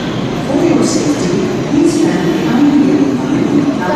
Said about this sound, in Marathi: आपली मेट्रो आलेली आहे